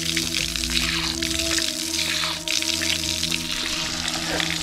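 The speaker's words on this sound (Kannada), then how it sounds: "so open the tap," Steady rushing water runs continuously from an open tap at a temple, with a constant low hum beneath it.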